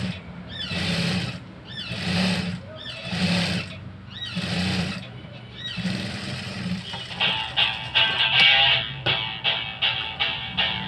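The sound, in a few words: sewing machine stitching a patch-work blouse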